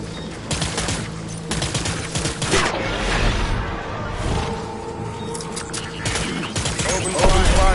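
Rapid bursts of gunfire and a fusillade of shots ring out in the Death Stranding video game, loud and dense throughout, mixed with shouted voices and battle noise.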